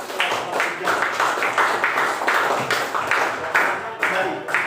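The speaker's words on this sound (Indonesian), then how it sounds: "Terus beri tepuk tangan untuk kelompok 3." A class applauds a student group in an Islamic religious education lesson, a dense, fairly loud spread of clapping that swells in repeated waves for several seconds, with voices mixed in underneath.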